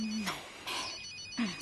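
A phone rings in short repeated electronic bursts, moderately quiet, with brief gaps between rings.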